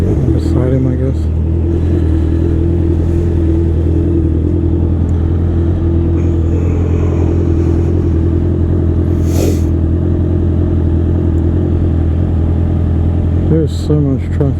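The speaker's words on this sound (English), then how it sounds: "There's so much traffic out." Road traffic passing around a rider on a Honda CB650R motorcycle, heard over the bike's steady loud engine hum and wind noise, with a car whooshing by midway and another near the end.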